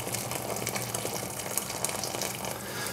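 Boiled water poured from a kettle into a pan over potatoes and celeriac, a steady close splashing gush that runs throughout.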